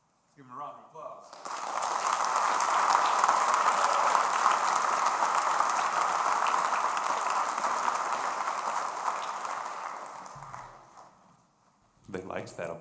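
An audience gives a sustained round of steady clapping after a school band concert by fifth and sixth graders. It runs for about ten seconds and then fades, with brief talking just before and after.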